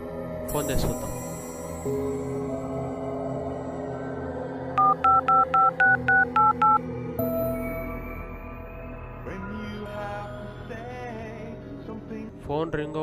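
A phone call being dialed, a quick run of about eight evenly spaced keypad tones in the middle, with room noise and shuffling before and after and some faint speech.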